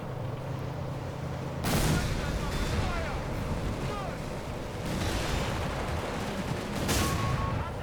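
Airstrike explosions in Company of Heroes 3 during a late armored push over farmland: dense gunfire and blasts, with sharp heavy bursts near 1.7 s and 6.9 s over constant battle rumble, beneath a speaking voice.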